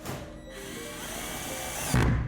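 A power drill drives a screw into a chipboard test wall for mounting a T-profile curtain rail, a close steady whine rising in pitch over about two seconds before a louder final grinding burst.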